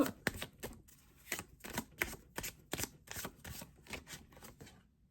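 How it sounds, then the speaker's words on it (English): A deck of tarot cards being shuffled by hand, a close run of crisp riffling slaps and flutters in quick rhythm, ending with a brief pause as a card is drawn. "I'm gonna pull a card for clarity"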